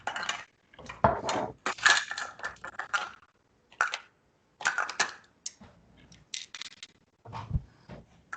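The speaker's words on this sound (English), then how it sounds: "Let me get my teaspoons out here" Metal teaspoons clink and rattle as they are pulled out and handled in a kitchen, with a series of close, sharp taps and jingles separated by short pauses.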